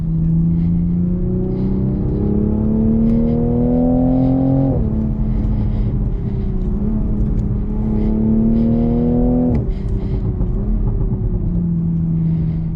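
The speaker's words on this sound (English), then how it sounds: "put this thing in sport mode and you'll hear this robotic transmission treat this car like only a professional driver can" A Toyota Supra engine revs up repeatedly in sport mode, climbing in pitch, then drops sharply as the automatic gearbox shifts, loud and close with a constant rumble.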